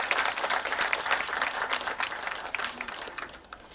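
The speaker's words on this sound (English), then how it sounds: "can we fill this room once again with a big round of applause?" A seated audience at a semiconductor manufacturing inauguration event in Maharashtra applauds in a steady, dense clatter of many hands, moderately loud and continuous.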